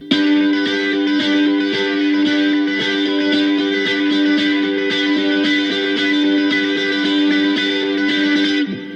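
Distorted electric guitar with chorus and reverb plays the steady sixteenth-note rhythm part of a song, a loud, continuous strummed pulse with accented beats running unbroken and without talk.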